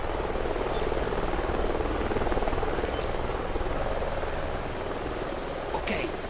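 Military helicopter in the shooter game Call of Duty: Ghosts, a steady rotor and engine drone holding for the whole stretch at moderate loudness, passing without talk.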